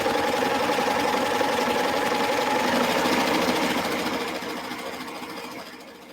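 Sewing machine stitching wired ribbon, a steady, close, rapid mechanical hum with fine rhythmic needle chatter that runs continuously and fades slightly toward the end.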